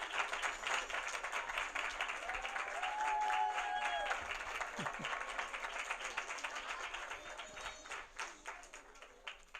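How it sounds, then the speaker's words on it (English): Thunderous audience applause for SSE children at a Sai birthday celebration in Jersey City, dense sustained clapping from a large crowd with a few faint tonal sounds in the background. "they deserve a thunderous round of applause"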